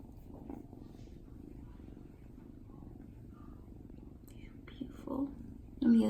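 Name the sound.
black cat purring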